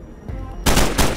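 Automatic weapon gunfire in the online multiplayer shooter S.T.A.L.K.E.R.: Call of Pripyat, sounding as a loud, dense burst of rapid shots that begins partway through and continues to the end.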